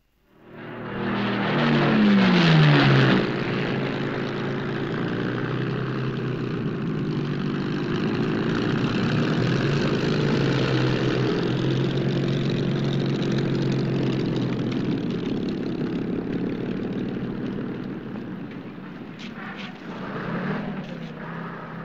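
A Spitfire propeller aircraft passes with a loud, sustained engine drone that swells early, holds steady and then slowly fades, with no speech over it.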